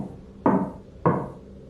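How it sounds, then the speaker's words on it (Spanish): Two heavy knocks on a door, about half a second apart, each a sharp thud with a short ring; nothing else sounds around them. "Los golpes en la puerta"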